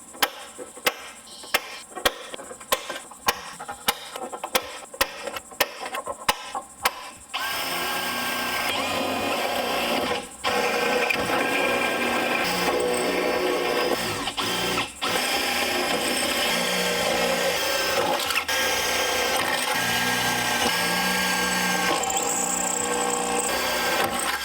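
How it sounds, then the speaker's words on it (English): A series of sharp tool bursts starts and stops, then a power drill runs loud and steady, briefly pausing twice as it bores holes while installing a Lexan rear window on a car. "And then we'll start drilling out these holes."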